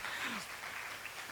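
An audience at a masterclass event in Nairobi, Kenya claps in a dense, steady wash of applause from many hands, with voices mixed in.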